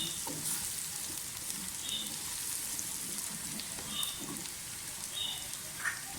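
Green chilies sizzle and crackle in hot oil, a steady, fairly quiet frying hiss with occasional stirring.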